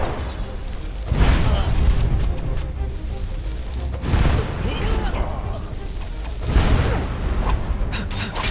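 Fire spitter cannon firing in the Enderal video game, three loud booming blasts spaced a few seconds apart, each with a rumbling tail over a busy battle background, with voices in the mix.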